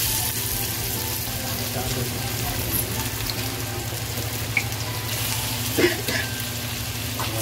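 Ginger garlic paste and green chili fry in hot oil in a pan, a steady close sizzle that carries all the way through, with a faint clink now and then.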